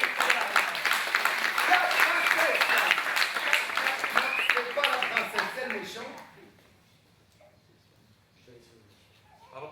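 An audience at a show applauds loudly in a dense, sustained burst for a princess, the clapping carrying on for about six seconds before stopping abruptly, followed by near silence.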